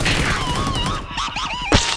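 Rapid bursts of gunfire in the mobile shooter PUBG Mobile, loud and continuous with a sharp crack near the end, heard under excited players' voices chattering over the action.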